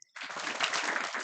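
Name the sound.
audience clapping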